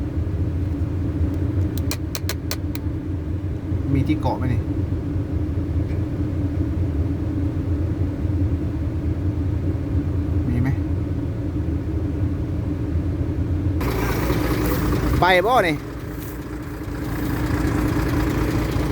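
A small farm tractor in a truck-driving video game labours under a heavy two-axle load, its engine a steady low rumbling drone throughout, with brief voices over it.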